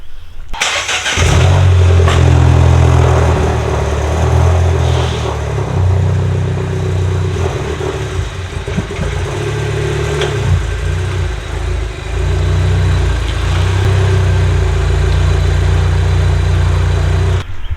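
Engine of a Mini fitted with a cheap aftermarket intercooler cranks and catches with a slight hesitation, then settles into a steady, loud, close idle that runs alone for over fifteen seconds.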